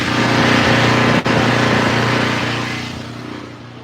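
A Vanguard engine runs steadily up close, a loud continuous drone with a brief dip partway through before the level eases slightly toward the end.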